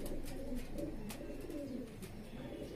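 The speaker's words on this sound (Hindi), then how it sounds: "बहुत अच्छी चपटी खोपड़ी का कबूतर है।" A flat-skulled crossbred pigeon coos softly in a low, rolling murmur that repeats without pause, with a few faint clicks and rustles in the background and no voices.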